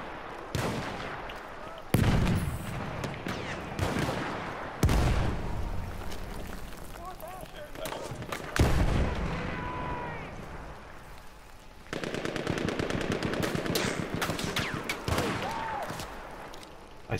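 Gunfire in the first-person shooter Battlefield 1: repeated loud shots and heavy blasts, including a rapid automatic burst near the end, over constant battlefield noise, with a player's voice in between.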